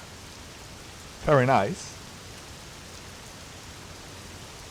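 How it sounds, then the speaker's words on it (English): Simulated rain pouring down around a PMDG Boeing 747-400 freighter in the Prepar3D v5.3 flight simulator, a steady, even hiss throughout with a brief spoken remark partway in. "you can see in the background some rain still left pouring down"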